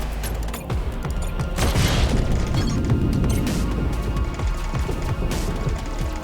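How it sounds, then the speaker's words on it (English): Explosions aboard ships in the space tactics video game Crying Suns roll together into a loud, continuous rumbling barrage with crashing bursts, sustained for several seconds. "Gonna take a little bit of damage here from the explosion, but second explosion, third explosion"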